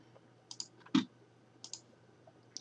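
Computer mouse clicks during Photoshop work: a handful of quiet, sharp clicks spaced irregularly over a faint hum, with one noticeably louder click near the middle.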